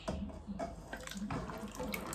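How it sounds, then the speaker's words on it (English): Liquid pours steadily with a soft splashing, gurgling sound into a cornmeal porridge mixture cooking on the fire, close by and fairly quiet, with no voices. "So now I will now pour it onto the mixture"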